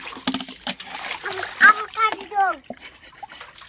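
Water splashes and trickles as it is poured over a person's head, in a couple of quick splashy bursts mixed with lively children's voices talking and squealing close by.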